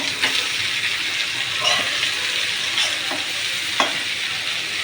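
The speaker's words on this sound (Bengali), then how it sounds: "তেলে চেড়ে মিক্স করে নেব।" Bitter gourd being stirred and fried in oil, a continuous loud sizzle with occasional spatula scrapes and clinks against the pan, close by.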